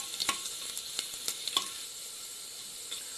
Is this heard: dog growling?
no